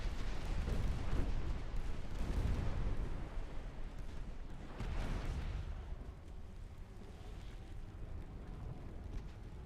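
Battleship broadside gunfire from Ultimate Admiral: Dreadnoughts: deep rumbling naval cannon blasts rolling in two heavy waves, with a sustained boom and low roar between them and no voices.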